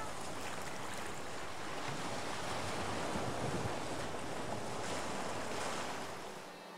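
Strong sea waves surging continuously onto a Philippine coast hit by typhoons, a loud, steady roar of surf mixed with wind buffeting the microphone.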